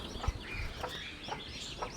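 Soft, scattered clucking from a few chickens nearby, faint and irregular against a quiet outdoor background.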